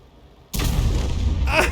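A tank gun fires in a video game, a sudden loud boom after a brief quiet moment, followed by a rumbling tail.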